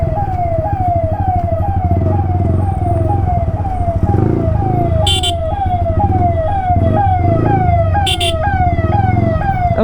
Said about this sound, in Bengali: একটা অ্যাম্বুলেন্স পড়ে, যে এমার্জেন্সি আছে, গাড়িটাকে বার করে দিই।